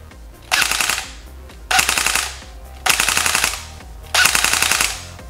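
S&T HK G36CV airsoft electric rifle with blowback firing four loud, close full-auto bursts, each a rapid mechanical rattle of about a second separated by short pauses.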